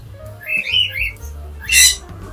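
A tamed pet conure gives loud, harsh squawks close by, several rising calls ending in a piercing burst, with faint low background noise.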